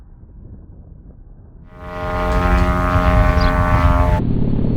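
A radio-controlled aerobatic model airplane flies past, its propeller engine whining in from quiet and holding a loud, steady buzzing drone for the last few seconds.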